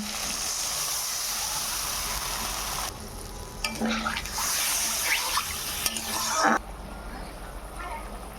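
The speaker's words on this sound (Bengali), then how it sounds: "এবার জল দিয়ে দেবো পরিমাণ মতো জল" Water poured into a pan of frying ground cumin paste for a Bengali fish curry with potatoes and drumsticks, a steady sizzling and bubbling that surges and hisses several times without any talking.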